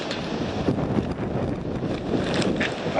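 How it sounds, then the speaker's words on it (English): Outdoor wind buffets the microphone with a constant low rumbling roar that lasts the whole three seconds, and no voices are heard. "This wind is making me crazy"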